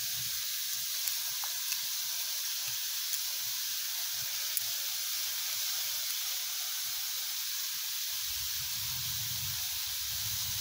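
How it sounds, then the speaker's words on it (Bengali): Ridge gourd frying in a pan in a home kitchen, a soft steady hiss and sizzle throughout, faint and continuous, with a low rumble near the end and no talk. "ঝিঙেটা একটু ভাজা হোক বন্ধুরা"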